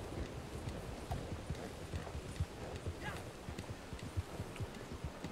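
A wild horse gallops in the Red Dead Online video game, its steady clip-clop hoofbeats drumming close and continuous over a noisy outdoor ambience, with a faint whinny in the mix.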